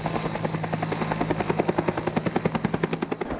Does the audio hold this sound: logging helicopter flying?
yes